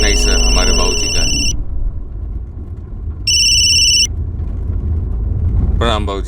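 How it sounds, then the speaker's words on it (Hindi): A telephone rings indoors in two bright electronic bursts separated by a low rumbling pause, then a voice starts speaking just as the ringing stops. "फोन उठाओ"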